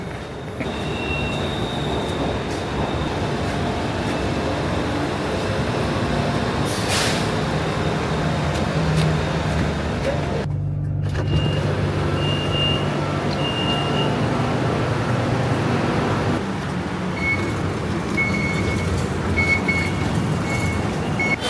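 Loud, continuous rumble from inside a moving metro train in Bangkok, with wheel squeals, a brief hiss of air brakes and intermittent electronic beeps.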